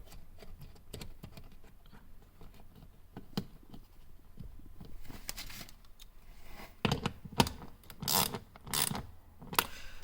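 A ratchet wrench clicks in short, quiet bursts while tightening a ground wire bolt during a dash cam hardwire install in a 2021 Toyota RAV4 Prime, with scattered taps and a few louder clicks toward the end.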